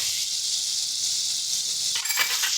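A ground paste of ginger, garlic and green chili sizzles steadily in hot oil in a pan, with a brief clatter of stirring near the end.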